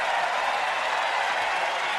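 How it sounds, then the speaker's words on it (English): Steady applause from a large crowd at a US Open tennis match, a broad continuous wash of clapping filling the stadium without a break for its full length. "Huge round of applause"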